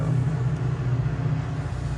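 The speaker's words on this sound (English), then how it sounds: "Sorry about the train in the background." A train passes in the background, heard as a steady, loud low rumble with a strong engine-like drone that holds for the whole two seconds, with no talking.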